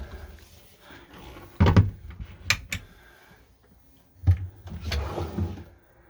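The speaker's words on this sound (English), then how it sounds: "Proper drawer as well." A drawer in a compact 6-meter Sun Living A60 Special Edition motorhome slides open and shut, two sharp wooden-plastic clunks with short sliding rumbles between them, close and clear with no talking.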